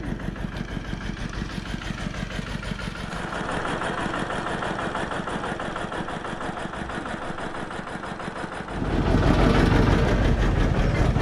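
A tractor engine idles with a steady low rumble, then grows noticeably louder and rougher near the end.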